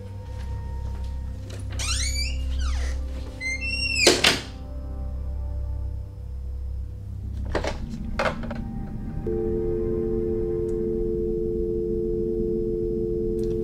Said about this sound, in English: it's like a humming sound